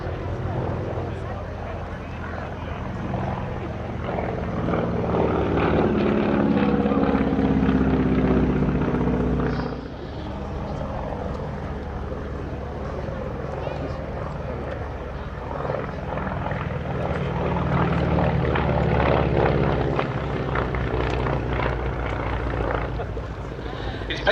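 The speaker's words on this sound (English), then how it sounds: "Every second rotation, you hear the puff of that one cylinder with its short exhaust stack." A deep, throbbing radial aircraft engine runs steadily close by at an airshow, its rough exhaust pulsing rhythmically from short exhaust stacks, with voices talking faintly beneath the drone.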